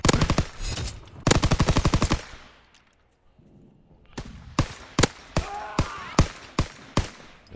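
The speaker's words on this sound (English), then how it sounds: "I put bullets in all of you." Video game gunfire: two rapid machine-gun bursts up front, a quiet gap, then a string of loud single shots spaced roughly half a second apart, close and sharp.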